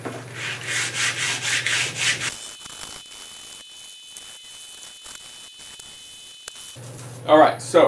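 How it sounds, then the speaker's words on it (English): Sandpaper rubs in quick, steady back-and-forth strokes to strip varnish from an osage orange bow stave, close and loud, then pauses before a short burst of sanding resumes. "sandpapered off all the varnish"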